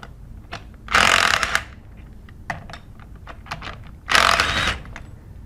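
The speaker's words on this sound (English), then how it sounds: "we're going to use a 3/8 inch electric impact gun" A 3/8 inch electric impact gun loosens the bolts on the discharge manifold of a Sandpiper S15/S20 pump, firing two loud, close whirring bursts about three seconds apart, with quieter clicks and handling noises in between.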